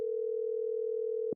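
A steady telephone tone hums at one constant pitch, heard alone and close, for an incoming podcast phone call, then cuts off abruptly with a small click at the end.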